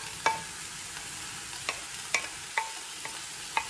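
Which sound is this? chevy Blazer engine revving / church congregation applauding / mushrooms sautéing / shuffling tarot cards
mushrooms sautéing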